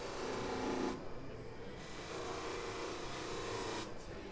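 Close, quiet rasping of sandpaper on a tobacco pipe, working out stubborn scratches in short repeated passes with brief pauses between strokes.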